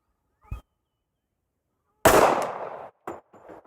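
One sharp, loud report from a Tisas 1911 A1 pistol fired at a range, followed by a short ringing decay and a few faint clinks.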